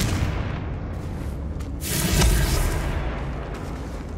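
In Hogwarts Legacy, a Confringo spell detonates in a deep, rumbling blast that swells midway through the clip over a continuous dense game soundscape.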